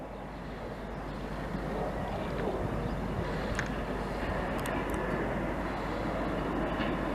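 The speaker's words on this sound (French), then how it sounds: "on est le dernier triage en Île-de-France où il trie les wagons par la gravité." Railway wagons rolling downhill in a gravity hump yard at Le Bourget, Île-de-France, a steady continuous rumble and rolling roar with faint metallic squeals and clanks, sustained throughout without speech.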